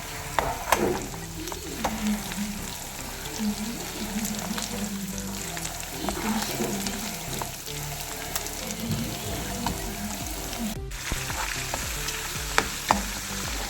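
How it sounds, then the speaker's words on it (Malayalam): Tuna pieces fry in hot oil for a fish pickle, a dense continuous sizzle with crackling spatters and occasional stirring clatter, steady and close throughout with no talking. "ഇപ്പോൾ രണ്ടാമത്തെ സെറ്റ് ഞാൻ ഇട്ടതാണ് മീൻ ഫ്രൈ ചെയ്യേണ്ടതാണ്"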